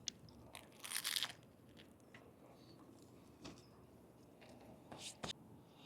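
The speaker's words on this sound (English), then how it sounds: "I don't know if you guys heard the crunch on that one, but that was nice and flaky" Crisp crunchy bites into a flaky banh mi sandwich filled with pork and cilantro, a loud crackling burst followed by quieter chewing crunches and another sharp bite near the end, close up.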